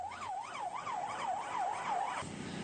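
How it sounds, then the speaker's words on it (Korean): A fire engine siren wails steadily up and down as the truck races to a fire call in Gwangju, South Korea. It is loud and close, with road noise underneath, and the tone shifts abruptly near the end. No one speaks. "출동 지령과 함께 소방차들이 화재 현장으로 달려갑니다."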